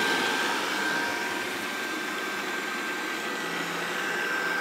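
A home vacuum cleaner runs with a steady, loud broadband whoosh and a thin high whine, holding even and unbroken throughout with no talking.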